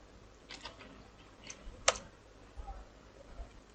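Several scattered key clicks on a computer keyboard while a pip install command is typed, quiet and close, with one sharper keystroke standing out amid soft background hiss.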